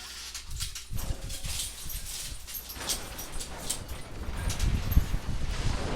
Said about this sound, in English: He thinks he's still a lap dog